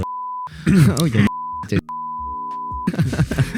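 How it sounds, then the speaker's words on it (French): Loud, steady electronic censor beeps, three separate tones, cutting in between bursts of speech. "fait beaucoup de bip, Loïc, beaucoup de bip."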